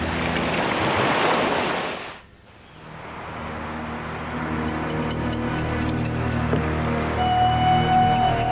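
Ocean surf during an Australian adventure race, with a loud rush of breaking waves and wind buffeting the microphone, then a brief lull before the roar builds again and continues steadily.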